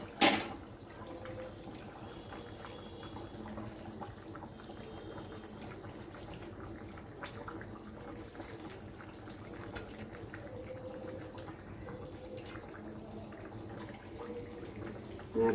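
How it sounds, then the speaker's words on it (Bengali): Rohu fish pieces go into a simmering potato curry in a home kitchen, giving a steady, close bubbling and liquid sizzle throughout, with a brief splash right at the start and no talking. "এবার আমি মাছগুলো এতে দিয়ে দেব"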